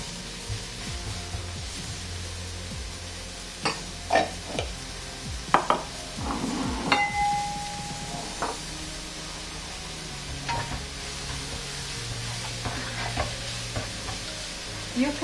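Onions with salt, pepper and green chilies sizzling and frying in a pan, a steady hiss with occasional stirring and scraping sounds throughout.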